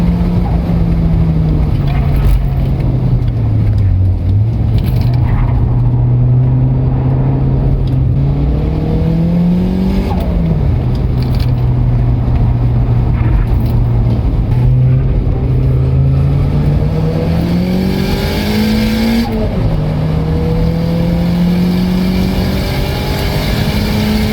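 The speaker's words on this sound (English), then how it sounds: "I actually took my other car on track" A car engine drones loudly and steadily from inside the cabin during laps on a race track, its pitch rising and falling as the driver accelerates and eases off through corners.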